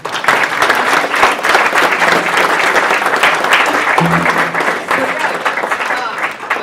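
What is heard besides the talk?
audience applause for a speaker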